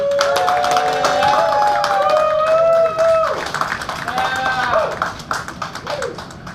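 A comedy club audience claps and cheers for comedian Robert Lee, with a dense burst of clapping and whooping voices that fades toward the end.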